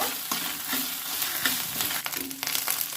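Chopped chilli sizzles in hot ginger-garlic oil while being stirred for restaurant-style chilli paneer, a steady close frying hiss broken by repeated scraping strokes of a spatula against the pan.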